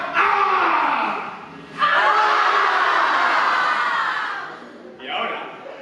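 A theatre audience at a student musical performance of Little Shop of Horrors shouts together in a long, loud sustained group yell, breaking briefly and swelling again, then a shorter final burst.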